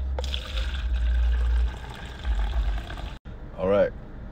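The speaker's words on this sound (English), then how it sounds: "I asked them for a clear cup so I could pour my orange Fanta in there before I mix it" Orange Fanta is poured into a clear cup, a close liquid stream with low gurgling for about three seconds, then a brief pause and a short voiced sound at the end.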